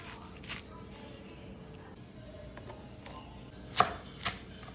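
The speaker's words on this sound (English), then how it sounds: "To make it easy to blend, just chop it up super quickly." A knife chops cucumber and a serrano pepper on a cutting board, giving a few sharp knocks, two of them louder near the end, over a steady low kitchen background.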